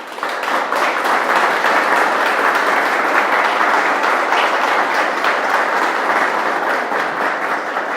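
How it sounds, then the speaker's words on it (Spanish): Loud, sustained applause from a large standing church congregation, dense and steady throughout with no break. "Se pusieran de pie y les demos un fuerte aplauso"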